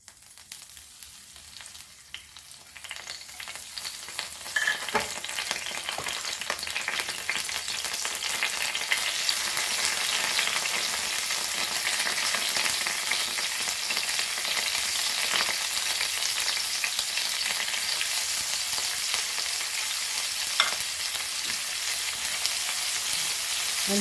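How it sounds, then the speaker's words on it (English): Prawns frying in a pan with curry leaves, a steady loud sizzle that swells after the first few seconds and then holds continuously, with occasional stirring clinks and no talk. "And this will fry quickly because it is prawn."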